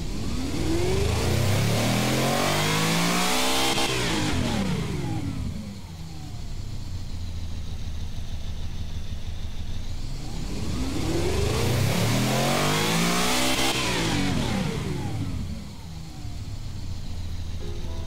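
Two full-throttle dyno pulls of a V16 car engine in the game Automation, each rising steadily in pitch to a loud high-rev peak, then dropping back toward idle before the next run; no talking.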